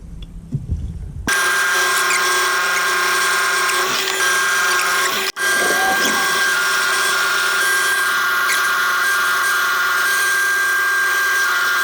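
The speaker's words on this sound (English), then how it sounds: "I'm going to sand all the outside, get that all smooth and looking shiny." A power sander works on the outside of a turned wooden lollipop pot, starting abruptly after a moment of quiet and droning loudly and steadily up close, with only a brief dip midway.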